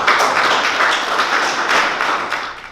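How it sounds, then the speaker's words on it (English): An audience at a Nation of Islam gathering claps for a sister coming up to speak, a dense burst of applause that tapers off toward the end. "Please give her a round of applause"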